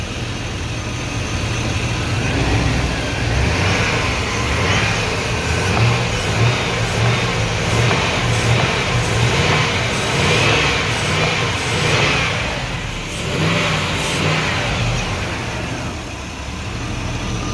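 A V8 engine in a high-mileage Chevrolet Suburban with about 271,000 miles and new valve cover gaskets revs outdoors on a snowy day, a steady loud rumble with surging rises in pitch, close by and without talk.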